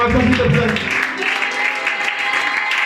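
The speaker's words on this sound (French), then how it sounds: "Donne une très très puissante acclamation, s'il te plaît." A church congregation responds to a preacher with acclamation, cheering and clapping; voices ring out loudly at first, then settle into steady applause for the remaining seconds.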